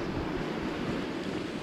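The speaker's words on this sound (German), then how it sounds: "Und hier ist dann halt dieser Wasserfall" A waterfall running through a shaft in the Osterzgebirge wildlife park in February gives a steady, dense rush of falling water, even and unbroken, close by and with no voices over it.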